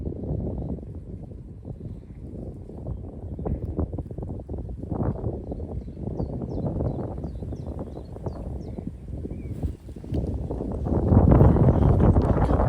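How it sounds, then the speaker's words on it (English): Strong gusty wind buffets the microphone on a fishing bank throughout, rumbling low and loud, swelling harder near the end, with faint chirps high above. "Really windy. I don't know if you can hear me."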